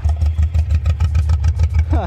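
A Talbot Samba engine running rough nearby, with an uneven, pulsing sputter of rapid irregular pops and a faint voice at the end.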